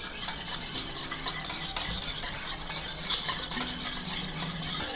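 A spoon stirs yeast, sugar and salt in a bowl for donut dough, a continuous close scraping and swishing with faint clinks against the bowl, steady and without talking.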